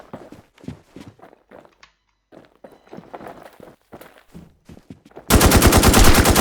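Rapid video game gunfire in a multiplayer shooter bursts in loud and dense near the end, a fast rattling automatic stream that follows quieter stretches of scattered footsteps and low clatter.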